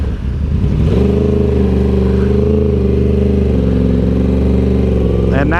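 Yamaha R1 sport motorcycle engine idling steadily while the clutch is worked, a loud close low drone with a slight dip in pitch as the bike starts to move, running continuously with a brief rev at the end.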